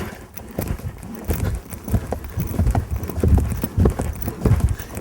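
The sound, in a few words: horse hooves clip-clopping during lengthenings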